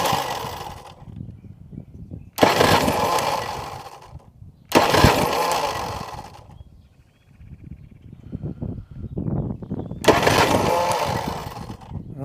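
A 1988 Evinrude 200hp V6 outboard engine cranks in repeated bursts, each loud starter whir lasting a couple of seconds and separated by pauses, with some low rumbling and handling noise between attempts.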